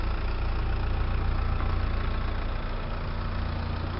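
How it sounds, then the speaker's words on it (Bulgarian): A 113-horsepower diesel car with a manual gearbox idles steadily nearby, its low, even rumble running unbroken and fairly loud with no voices over it. "В момента работи колата, работи отлично."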